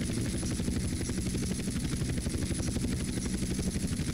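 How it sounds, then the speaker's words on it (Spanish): Helicopter landing on a runway in the video game GTA San Andreas, a steady rapid rotor chop with engine drone, continuous and fairly loud. "Y aterrizaje de helicóptero, que no tiene nada, bajamos."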